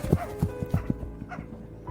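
Big black dog barking close by, a quick series of short, punchy barks and yips in an uneven rhythm.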